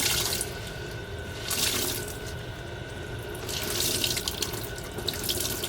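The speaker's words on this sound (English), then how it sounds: "the water's still coming out a bit purpley, so we just want to keep on running the water" Tap water runs steadily into a sink while tie-dyed fabric is rinsed under it, a close splashing hiss that swells and dips as the cloth is moved and squeezed, with no talking.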